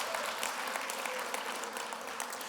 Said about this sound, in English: So let's give you a round of applause.